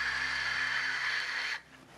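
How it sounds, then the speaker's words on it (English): Wind noise picked up by the acoustic sensor of a probe descending by parachute through Titan's atmosphere, a steady faint hiss with a thin whine that drops suddenly to near silence at the end. "what you hear is mostly wind noise as the parachute's descending through the atmosphere"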